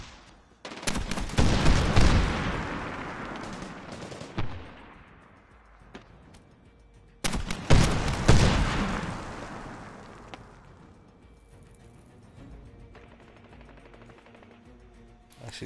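Two heavy bursts from a Mark 19 grenade launcher in the Medal of Honor Warfighter video game, each a loud booming volley of rapid blasts that rolls off into a fading rumble, separated by several seconds of quieter combat noise.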